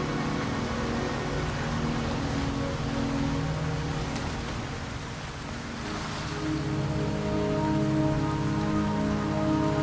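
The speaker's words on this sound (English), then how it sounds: "Don't worry, the rain won't last much longer." Heavy rain pours steadily in the video game Wuthering Waves, a dense constant hiss and patter on surfaces with a low ambient drone beneath, unbroken and fairly close throughout.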